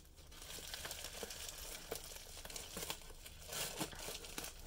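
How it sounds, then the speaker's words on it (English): A cardboard package for speed cubes being ripped and crinkled open, with continuous faint crumpling and tearing rustles and a few sharper snaps, close and quiet. "Hopefully I can just rip it open now."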